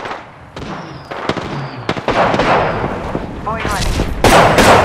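Bursts of gunfire in the video game Apex Legends, rapid cracking shots and repeated volleys with a louder burst at the end, over busy game sounds and faint voices.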